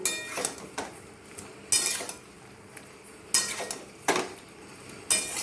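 Jackfruit and boiled potato pieces stirred together in a pan, the spoon scraping and clanking against the metal in a few sharp bursts with quieter shuffling between, close and fairly soft, with no talk.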